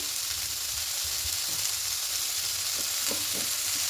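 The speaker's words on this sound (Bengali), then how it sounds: "দিয়ে আবারও খুব ভালো করে নাড়াচাড়া করে একটু ভেজে নেব।" Vegetables stir-fry in a pan for a vegetarian moong dal, giving a constant close hiss of sizzling oil with occasional soft spatula scrapes and stirs underneath.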